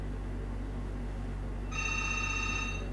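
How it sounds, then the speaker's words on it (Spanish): A telephone starts ringing partway through, a bright electronic ring that rises over a steady low room hum and stays on to the end, with no voices. "justo empieza a sonar el teléfono"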